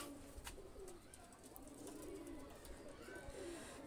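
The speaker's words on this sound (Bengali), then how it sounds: "আমি ছেড়ে দেখাচ্ছি দুইটা কবুতর দেখেন।" Golden pigeons, Pakistani high-flyer birds, released from the hand, with soft cooing and brief wing flutters at moderate distance over steady outdoor background noise.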